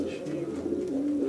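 Racing pigeons from a marathon flight team cooing in a loft, a steady low warbling coo heard close up.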